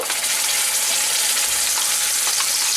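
A mustard, poppy seed and green chili paste with black cumin fries in hot oil for bata mach, a loud, close, steady hiss of sizzling with a few faint clicks, no voices.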